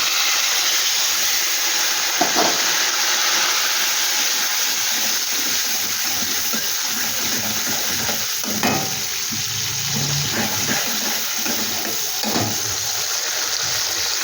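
Tomato sizzles and fries in hot oil with whole garam masala in a pan, a steady loud crackle with occasional stirring scrapes.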